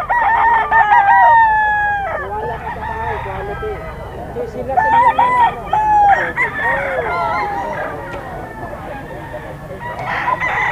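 Gamefowl roosters at a pet market crow loudly and close by in several long calls, with clucking in between and people talking in the background.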